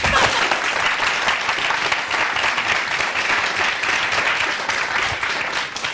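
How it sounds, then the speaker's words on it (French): Studio audience applause on a RTB television programme, dense and sustained clapping at a steady loud level throughout, with no talk over it. "Applaudissements pour Nteni."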